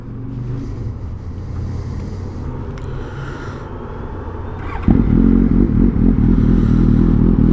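Suzuki GSX-S 750 motorcycle with a Yoshimura M4 slip-on exhaust, idling at first and then jumping to a louder, deeper, steady engine rumble as it is revved, close by with no talking.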